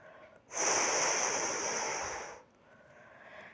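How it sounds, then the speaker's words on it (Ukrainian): A single deep, close breath in a winter breathing exercise rises into a long, steady, airy exhale lasting about two seconds, then drops back to near quiet. "глибокий вдих через ніс, затримка дихання, тривалий, спрямований видих через рот"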